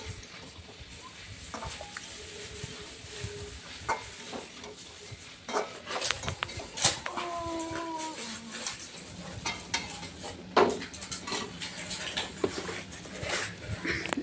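Fried vegetables for niramish shukto are sautéed in a pan, with soft sizzling under frequent scraping and clinks of a spatula against the pan, close and fairly quiet, with a little faint talk.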